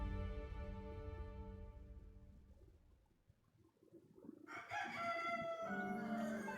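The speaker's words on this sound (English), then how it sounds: "Cock-a-doodle-doo." Rooster crowing in the medieval video game Kingdom Come: Deliverance II, a loud rising crow entering midway over steady background game music and ambience, fairly close, no talking.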